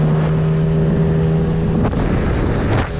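A small motorboat engine, nearly out of gasoline, drones steadily up close on a river, its pitch rising as it speeds up, with wind buffeting the microphone.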